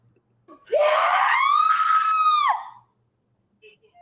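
A woman screams in one sustained, strained cry lasting about two seconds, rising sharply and then holding steady before trailing off, loud and close against otherwise quiet surroundings, during a shamanic ritual.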